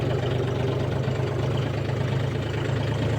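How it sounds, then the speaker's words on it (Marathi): A John Deere 5050 tractor engine running at a steady idle before ploughing a field, a continuous low throbbing drone with even pulsing, close and unbroken. "मी दाखवतो तुम्हाला जॉन डीर 5050 ट्रॅक्टरचा नांगरटीवरती परफॉर्मन्स"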